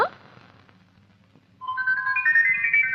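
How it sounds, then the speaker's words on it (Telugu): A phone ringtone chimes in a bright, repeating melody, starting abruptly and ringing steadily at moderate loudness, with a faint low murmur underneath. "నీ ఫోన్ రింగ్ అవుతుంది."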